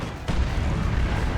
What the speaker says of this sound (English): And finish it in the end with the assault cannon.